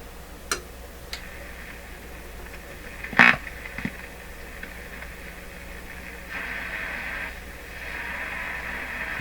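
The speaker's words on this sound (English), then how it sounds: "Now that's the sound of ham radio." A ham radio digital-mode signal comes through a Westinghouse 981X shortwave receiver as a steady, faint tone over background hiss, joined by a few sharp clicks and a brief louder burst. The tone swells again near the end.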